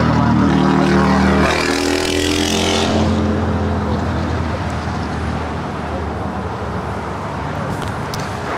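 A China Airlines Boeing 777-300ER on final approach to land at LAX starts with a loud, rising engine whine carrying distinct tones, which then fades into a broad, steady jet rumble.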